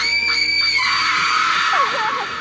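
A woman screams shrilly from inside a toilet at a railway station, a loud, sustained wavering cry lasting over two seconds that bends and falls toward the end, with no talk.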